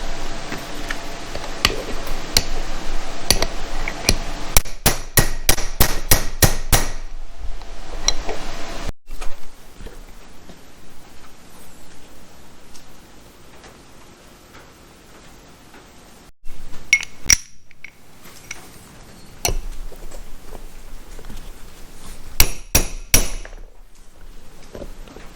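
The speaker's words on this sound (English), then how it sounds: "I'm using a small hammer so I don't cause any damage if I screw up too bad" A small hammer taps a bushing into a Chevy Nova transmission case, giving sharp metallic clinks in quick bursts and scattered single taps, separated by quieter pauses with low background noise.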